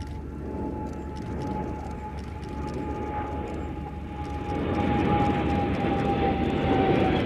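A Royal Air Force Voyager tanker passes at an airshow with a steady distant engine rumble and a thin sustained tone, growing louder toward the end, with faint crackling in the background.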